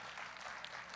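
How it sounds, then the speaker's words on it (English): Audience applause at a USA Powerlifting meet, a brief steady wash of clapping from a crowd, moderately distant and fairly faint. "Give him a round of applause for his military service first."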